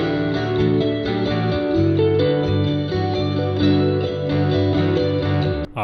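A sustained synthesized lead melody with chorused, slightly distorted tones and a reverberant tail, playing continuously over a steady backing.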